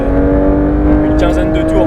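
Porsche 992 GT3 RS on a race circuit, a loud steady engine drone with strong sustained tones as the car pulls under throttle, with voices speaking over it near the end.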